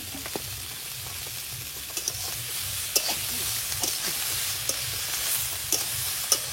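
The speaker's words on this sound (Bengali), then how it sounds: "পেঁয়াজ, চিংড়ি মাছটা দিয়ে দেবো" Onion and shrimp hit a hot pan for a Bengali fish dish, frying with a constant close hiss and sizzle broken by soft scraping stirs and small clicks of the utensil.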